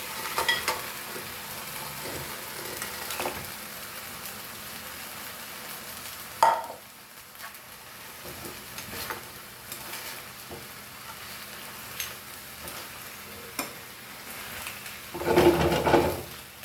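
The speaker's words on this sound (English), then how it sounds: "And now we'll add our crabs." Crabs for a Goan jirem mirem sukha dish cook in a pan with a steady close sizzle, broken by occasional stirring scrapes and a louder clatter near the end.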